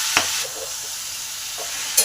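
Sliced ridge gourd and potatoes sizzle in a pan as a spoon stirs them together, a steady frying hiss with a couple of sharp scrapes against the pan.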